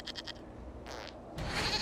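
A goat in Dragon Age: Inquisition gives a couple of short, nasal bleats after a few soft clicks, heard fairly close and alone.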